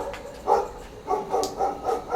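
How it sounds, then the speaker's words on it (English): A dog barks in the background, several short, moderately distant barks spaced irregularly with no speech over them. "dog in the background"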